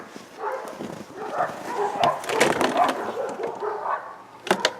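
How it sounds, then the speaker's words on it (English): Neighbors' dogs bark and yip in short irregular bursts, moderately close, amid clattering and handling noises from a dumpster haul with big springs; no talking. "neighbors' dogs are going crazy"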